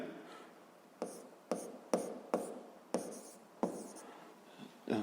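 Notes being written by hand during a seventh-grade physics exercise, pen scratching close and quiet in short strokes, with sharp taps as each new stroke begins, roughly once or twice a second.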